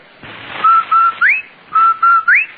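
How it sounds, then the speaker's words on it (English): The Rinso White advertising whistle, a clear whistled phrase of two flat notes and a rising slide, played twice in a row, loud and close with no talk. "That's the Rinso White whistle."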